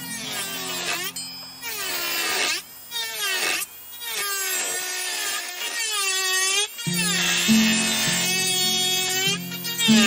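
Portable rotary carving tool with a burr smoothing wood, a high whining motor that rises and falls in pitch as it bites into the wood, close and steady with brief pauses.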